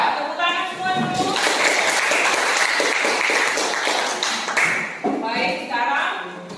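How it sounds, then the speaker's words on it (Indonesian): Classroom applause from a group of students, a dense burst of clapping filling the middle of the clip with children's voices and chatter around it at the start and end. "Tepuk tangan semua dulu."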